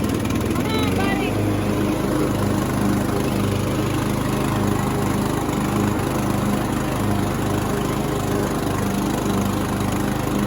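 A hay mower runs in a field with a steady, loud engine drone that holds unbroken from start to finish. Faint talk sits under the engine.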